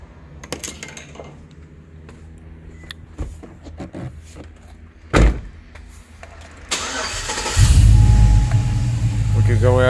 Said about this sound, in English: Let's try starting it up again.